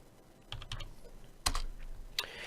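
Typing on a computer keyboard, a few close, crisp key clicks in a short irregular run with a sharper tap near the end, no talk.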